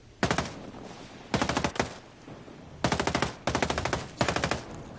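Bursts of automatic gunfire in Ghost Recon Breakpoint as tires are shot out, five rapid volleys of sharp, loud shots separated by short pauses, with no talking.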